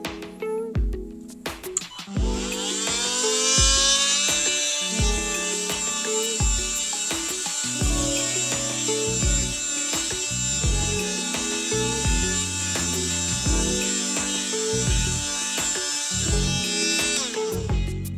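A cordless oscillating multi-tool whines steadily at a high pitch, with a rapid buzzing vibration and faint rhythmic knocks underneath, running continuously for a long stretch.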